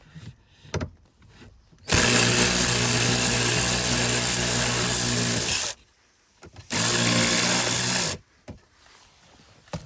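A power tool fitted with a 7mm socket removing a bolt from a 2015-2017 Ford F-150 passenger door, two loud close whirring bursts of a few seconds each, separated by short pauses and light handling clicks.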